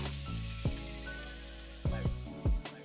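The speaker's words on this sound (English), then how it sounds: "Then I add in the coconut milk" Canned coconut milk poured into a hot pan for a chickpea curry, giving a few short sizzling, splashing bursts over a steady tonal background.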